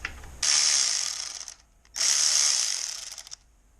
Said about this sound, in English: I'm going to disconnect the ABS bracket from the knuckle and also the brake line bracket from the frame